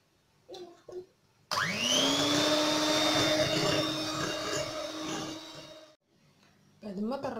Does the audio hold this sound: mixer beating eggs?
yes